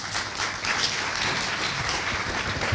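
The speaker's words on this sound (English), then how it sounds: "Round of applause, please, to Christoph Finsterer." A conference audience applauds steadily for a few seconds, a dense patter of many hands clapping at moderate volume.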